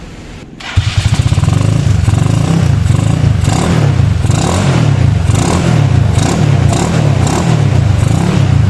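A Yamaha Mio Soul scooter engine, running with its racing high tension wire not yet fitted, starts up after a short pause and then runs loudly and close by with repeated revving surges.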